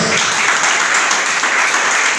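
A church congregation claps for the Lord during a Spanish-language sermon on children's submission, a dense, steady round of applause filling the room at close range throughout.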